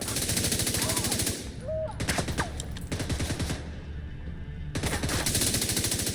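An assault rifle, a Custom P416 with an extended magazine, fires rapid automatic bursts in a shooter video game, with loud cracking shots broken by short pauses and reload sounds.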